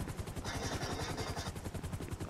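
Helicopter in the video game GTA 5, a steady rhythmic rotor chop with a whooshing engine roar filling the scene, continuous and fairly loud with no talk over it.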